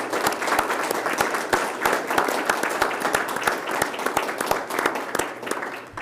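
Attendees at a KUB board meeting in a room applaud together, individual claps distinct and irregular, close and moderately loud, a smaller group's clapping sustained for about six seconds.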